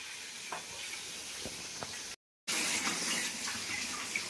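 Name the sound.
water running while washing shrimp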